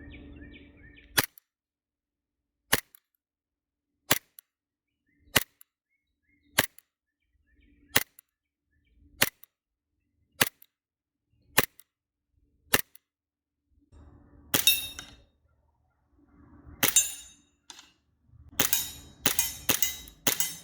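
An Archon Type B airsoft gun firing single shots through a chronograph and at targets: about ten sharp, evenly spaced snaps, then a few louder, clattering bursts of hits near the end.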